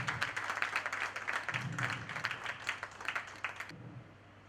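Applause from an audience at an Indian devotional Gita satsang gathering comes in a few fairly faint waves and stops abruptly near the end.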